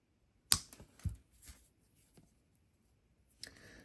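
Jewelry wire is snipped shorter with cutters, a sharp single click followed by faint small handling taps and rustles close by in a quiet room.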